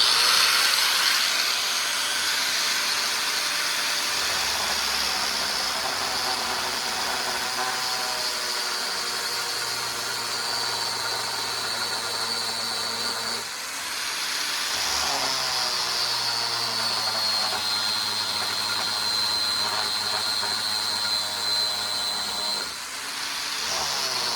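An Arbortech ball gouge carves into wood with a loud, continuous whining hiss over two long passes, separated by a brief dip mid-way.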